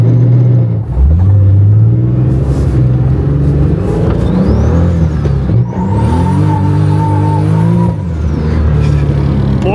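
A modified, chipped BMW E82 engine revs hard up and down several times, loud and close, with rising and falling engine pitch and sharp exhaust pops between the revs; no one speaks.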